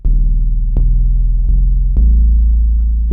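Heavy, saturated low bass notes run through a clipping maximizer throb in a slow pulse, each new hit thick and slightly crunchy with a gritty distorted edge.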